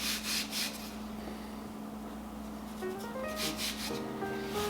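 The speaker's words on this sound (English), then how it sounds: "now we are going to roll these out to about a 1/4 to ½ an inch thick" A rolling pin rolls out lemon sugar cookie dough with soft, repeated rubbing strokes that swell and fade in a steady back-and-forth rhythm, close and moderately quiet.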